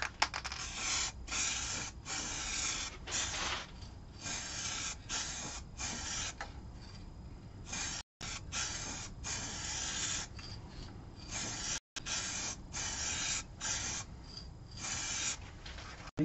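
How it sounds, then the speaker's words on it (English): Aerosol can spraying gloss lacquer in a workshop, a loud steady hiss broken into repeated bursts of a second or so, with two brief pauses, close and alone. "In the past I put the lacquer on, moved the can too quickly."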